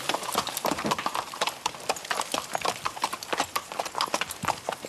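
A mule walks with a steady, close clip-clop of hooves, the quick irregular strikes continuing throughout without speech.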